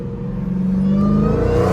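A Dodge Hellcat accelerates in traffic with no exhaust, a high supercharger whine rising over a deep, loud, steady engine rumble, heard close from inside the car.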